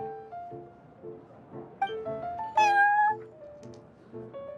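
Cat meowing in the card game Genius Invokation TCG, a few clear drawn-out meows, the loudest rising in the middle, heard over a soft repeating music pattern.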